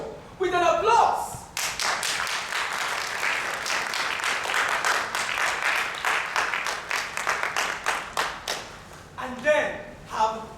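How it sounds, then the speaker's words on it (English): Theatre audience applauding after a living-picture scene in a Czech comedic lecture play, steady dense clapping for several seconds, with voices talking briefly at the start and end. "we will now reward Cimrmanovo's living picture with an applause."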